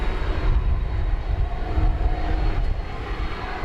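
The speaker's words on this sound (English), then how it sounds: "here comes the MD-11" A McDonnell Douglas MD-11 jet at DFW Airport in North Texas makes a steady, loud, broad engine roar with heavy low rumble that holds throughout, with no talking.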